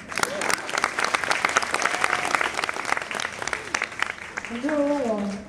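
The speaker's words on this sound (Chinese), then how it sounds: "这时候可以给他掌声吗？" Applause from an audience fills a hall, a dense steady clapping that rises near the end, with a speaker's voice over it.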